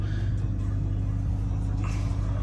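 Ram TRX pickup truck rolling on pavement, a steady low engine and road rumble heard from inside the cab, fairly quiet and continuous with no talking.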